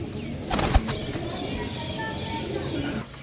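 Pigeon held in the hand flaps its wings in a short burst, with a sharp flutter near the start and softer rustling after, close and moderately loud over a busy background, with someone talking.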